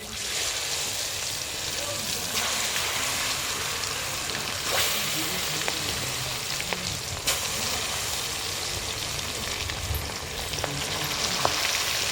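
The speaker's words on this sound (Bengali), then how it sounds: "সব ভাজা হয়ে গেছে। আর এই যে লাস্ট ভাজা, এটা আর একটু ভাজা হবে" Food fries in a pan with a constant close sizzle and crackle, broken by a few sharp taps and scrapes of stirring throughout.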